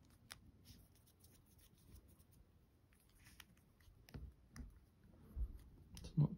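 Scissors cutting a basic shape from material for a miniature apartment build, heard as quiet, scattered snips and clicks close by, with a few firmer cuts toward the end and no talking.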